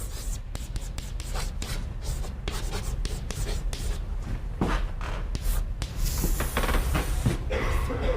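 Chalk scrapes and taps across a lecture-hall blackboard during a Yale philosophy class on death, continuous scratchy strokes with sharp clicks, close and fairly loud over room hum.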